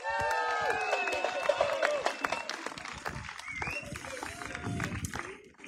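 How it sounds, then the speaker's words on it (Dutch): Audience applause for speakers Stefan, Duncan and Laura at a Freedom Tour gathering in Apeldoorn, a dense patter of clapping with some crowd voices and cheers mixed in, fading toward the end. "Geef een groot applaus"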